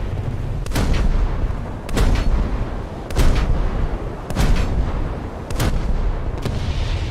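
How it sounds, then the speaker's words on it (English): Friendly naval gunfire in a warship video game, with five heavy booming shell blasts spaced about a second apart, each rolling off into a rumbling tail, loud and close with no talking. "You just hear shells flying over and thought, yep, enemy fire. Nope, that's a friendly shooting."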